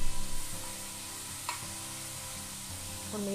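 Cucumber pieces dropped into hot oil for a cucumber chutney, a soft steady sizzle with a few light stirring clinks and one sharp tap midway, no talking.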